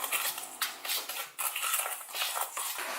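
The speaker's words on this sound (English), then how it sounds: "Now let's sort of mix these together. I'm just going to use a spoon, you can use a whisk," A spoon stirs dry Epsom salt and powders for homemade bath bombs in a bowl, giving a continuous close gritty scraping and light clinking against the dish with no talking.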